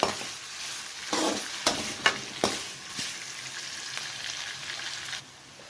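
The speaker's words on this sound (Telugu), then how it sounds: "పచ్చిమిర్చి కొంచెం సేపు ఫ్రై చేసుకోవాలి ఆనియన్స్ కలర్ చేంజ్ అయ్యే వరకు" Green chillies and onions fry in a pan, a steady sizzle broken by several sharp scrapes and clacks as they are stirred, heard up close without speech.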